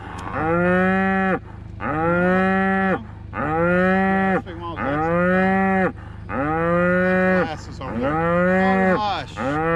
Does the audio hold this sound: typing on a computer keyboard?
no